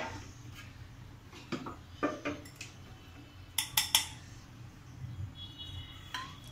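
A spoon stirs a corn and paneer filling in a bowl, giving scattered metallic clinks and scrapes, a few in quick clusters, close and fairly soft, with no talking.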